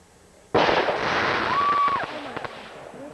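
A Roman candle firework goes off at a backyard fireworks gathering: a sudden loud burst followed by about a second and a half of dense crackling hiss with a brief whistling tone, then fading into a few scattered pops.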